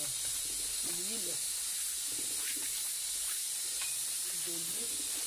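Cooking oil meets a hot pot for beef pilau rice, giving a steady, loud hiss and sizzle that fills the whole stretch, with faint voices murmuring in the background.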